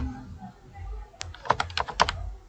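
Keyboard typing in Microsoft Word: a short burst of several quick key clicks near the end, fairly close, after a low murmur.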